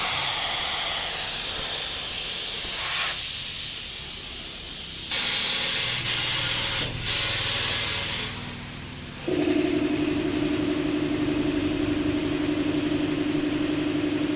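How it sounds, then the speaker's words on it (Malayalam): Air hissing out of a Pajero's tubeless tyre through the open valve once the cap and core are removed, a loud continuous close-up hiss that shifts in pitch and strength partway through. "ടയറിൻ്റെ ആ നെക്കിൻ്റെ ക്യാപ്പ് ഊരിക്കഴിഞ്ഞ് അതിൻ്റെ ഉള്ളിൽ ആ സംഭവം കൂടി ഊരിക്കഴിഞ്ഞിട്ട് ടയറിലെ കംപ്ലീറ്റ് എയർ അവർ കളയാണ്."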